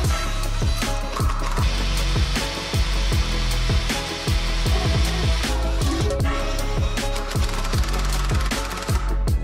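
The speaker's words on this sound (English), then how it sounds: "Just drill away and put screws in it." A power drill buzzes in repeated short bursts, revving up and down as screws are driven into a window frame, with occasional clicks and scraping between bursts.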